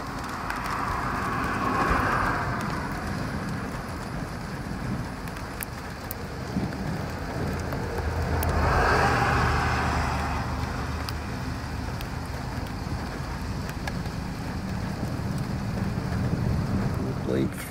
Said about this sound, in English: some strange thunder.